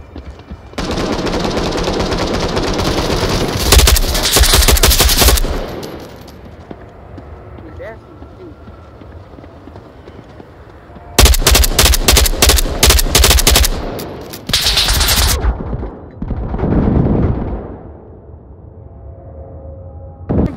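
Bursts of automatic gunfire in the VR shooter Onward, two loud rapid volleys of shots spaced apart, with people talking over radio chatter between and beneath them.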